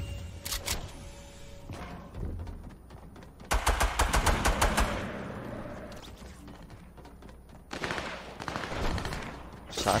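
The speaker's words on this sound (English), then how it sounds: "Shots fired, shots fired." Bursts of gunfire in the battle royale game Fortnite, sharp rapid volleys separated by short pauses, loud and close, with a longer rattling burst in the middle and more volleys toward the end.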